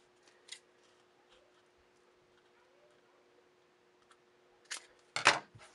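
Scissors snipping the edges of a paper matchbook, heard as a few sharp close clicks: one early snip, then a quick cluster of crisp cuts near the end over a faint steady hum.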